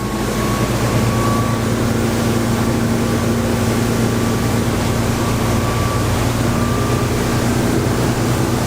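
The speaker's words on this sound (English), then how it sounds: "executing a left-hand turn out of the harbour and accelerating" A deep V motorboat accelerates out of a harbour at over 20 knots. Its loud, steady engine drone with a low hum continues without a break, mixed with rushing wind and water.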